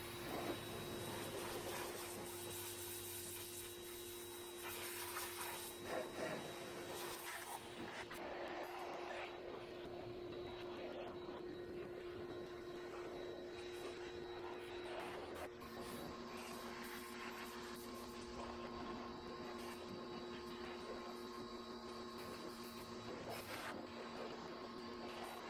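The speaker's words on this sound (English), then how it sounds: "I'm just gonna start blowing some of this grease out of the way." Compressed air blasting grease out of a car engine bay, a loud continuous hissing rush that cuts out and resumes a couple of times over a steady background hum, with occasional talk in the background.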